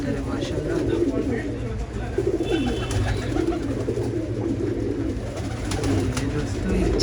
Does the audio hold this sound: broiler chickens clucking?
no